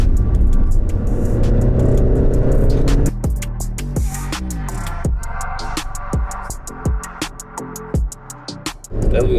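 An Alfa Romeo Stelvio Quadrifoglio SUV is driven hard over speed bumps. A loud engine roar rises through the revs and drops sharply at a gear change, then a run of rapid upshifts and revving bursts follows.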